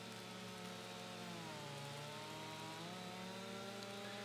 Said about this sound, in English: Takes a little while to cut with a chainsaw